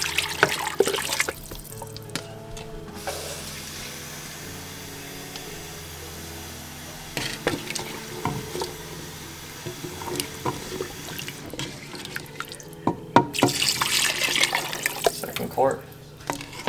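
Tap water running into a large pot, about three quarts for Japanese katsu pork curry, a steady close filling hiss with clatter and occasional gushes, someone speaking intermittently over it.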